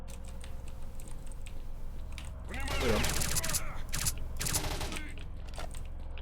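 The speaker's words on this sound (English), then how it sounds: "I've started to shoot bullets first before actually positioning my crosshair where it needs to be" Gunfire in STALKER: Shadow of Chernobyl: a rapid burst of shots in quick succession at close range, with a voice talking over part of it and keyboard clicking throughout.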